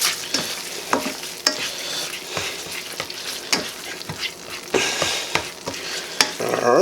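Melted butter sizzles in a pan for garlic butter green beans. A steady close crackle runs throughout, broken by repeated short scrapes and taps of a utensil, with no voices.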